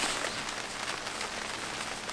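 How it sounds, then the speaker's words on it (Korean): Rain falls steadily at a seaside forest campsite on a wooden deck, a soft, even hiss of drops close by with no talking. "지금 비가 더 오고 있어요."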